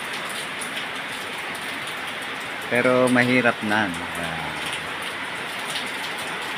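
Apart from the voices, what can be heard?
heavy monsoon rain falling outside house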